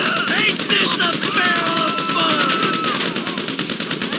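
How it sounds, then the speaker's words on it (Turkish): Rapid automatic gunfire from a weapon in GTA 5 rattles loudly and continuously, with a voice speaking over parts of the shooting. "Şu silah dinle."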